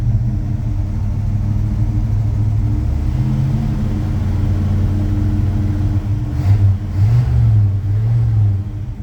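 Old 1978 or 1984 Chevy C10 pickup truck engine running with a steady low rumble, then revving up in a couple of rising swells near the end, loud and close.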